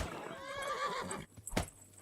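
Horse in the video game Kingdom Come: Deliverance neighing after being hit, a loud wavering whinny followed by a sharp thud and a few faint hoof clops.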